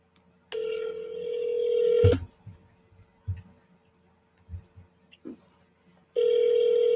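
An outgoing phone call rings back with two long electronic ringback tones separated by a quiet pause, with faint clicks and thumps in between.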